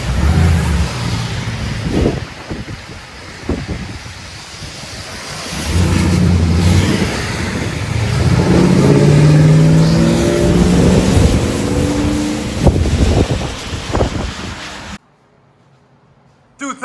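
A 2010 Ford F-150 Platinum Edition with a 5.4L Triton V8, aftermarket catalytic converters and an exhaust leak revs in several loud, deep bursts up close, with voices talking in between before the sound cuts out.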